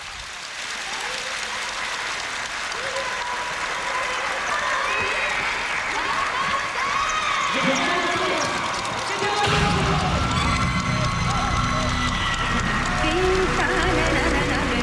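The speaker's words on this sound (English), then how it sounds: "a rousing applause from everybody in the stadium, the Red Lions" A stadium crowd at Singapore's 2003 National Day Parade applauds the Red Lions paratroopers, a broad sustained roar of clapping under an announcer's voice that swells louder with a low rumble partway through.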